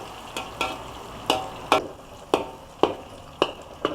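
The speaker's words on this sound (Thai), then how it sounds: "ใส่กระเทียมผัดให้หอมนะครับ" Garlic stir-fries in a pan with a steady sizzle, punctuated by about eight sharp, evenly spaced scrapes and taps of a spatula against the metal, close and clear, with no voices.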